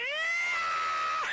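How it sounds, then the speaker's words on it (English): A single drawn-out cat meow, clear and close, sliding slightly in pitch and lasting just over a second with nothing else around it. "Cat."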